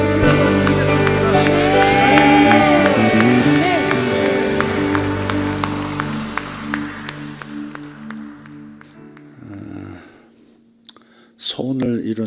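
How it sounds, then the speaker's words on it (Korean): A church congregation claps and cheers for God during a Wednesday worship service, loud applause mixed with organ or keyboard music that fades out, followed by a brief voice near the end. "우리 하나님 앞에 큰 박수를 드리겠습니다"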